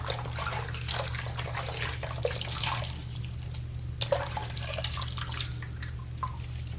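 A tap runs steadily into a sink during a rinse after a shaving cut, a close, constant splashing hiss broken by a few small knocks and drips.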